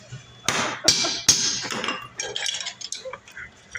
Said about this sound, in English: I'll tighten this up just a hair. Gotta adjust my wrench.